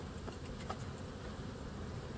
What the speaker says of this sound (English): there's a bee right there